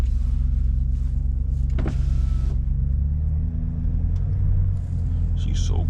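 BMW X5M engine and exhaust fitted with an M5 Competition catback, a deep steady low rumble idling in a snowy driveway, loud and constant, with a brief whirring mechanical noise and a few spoken words over it.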